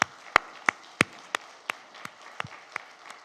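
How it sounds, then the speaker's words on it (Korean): Sparse, scattered handclaps from a small church congregation during a Sunday service, about ten distinct claps spaced at irregular intervals, quiet and hollow in a reverberant room. "우리 박수치며 박수로"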